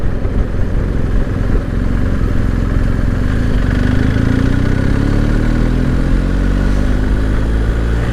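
BMW R1250GS boxer-engine motorcycle on the road, a steady, smooth mid-pitched engine drone with rising tone as it accelerates, continuous and close with wind rush throughout.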